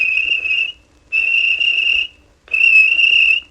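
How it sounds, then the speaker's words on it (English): Three sustained shrill blasts from a whistle, each under a second long with short gaps between, loud, clear and alone. "Walter Pobjoy blew his whistle."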